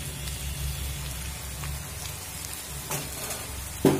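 Cauliflower stalks frying in a pan as a ground spice paste goes in, with a continuous soft rain-like sizzle and a few faint scrapes and a sharper knock near the end, close and steady with no talk.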